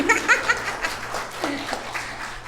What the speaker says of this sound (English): Let's applaud him already.